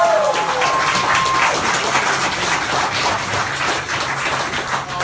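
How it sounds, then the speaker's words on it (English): Audience at a roast battle comedy show applauding comedian Dan McCarthy, a dense continuous wash of clapping filling the room at steady loudness, with faint crowd noise underneath. "I'm going to do the audience applause thing one more time"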